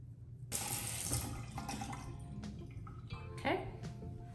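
Warm tap water runs into a sink while a face is rinsed, a steady close splashing rush with louder surges and splatters as hands scoop and splash, without anyone speaking.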